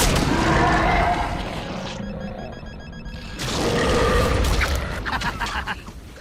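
Smart bombs exploding in a Transformers cartoon battle: loud rumbling blasts, a brief quieter stretch with a thin tonal ringing, then another heavy booming burst that trails off into crackling debris.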